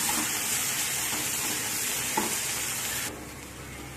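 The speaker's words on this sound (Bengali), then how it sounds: "কাজু আর পোস্ত দিয়ে ভালো করে মশলাটাকে আমি কষিয়ে নেব।" Masala paste with ground cashew and poppy seed frying in a pan, a steady close sizzle with scraping stir strokes throughout, easing slightly toward the end.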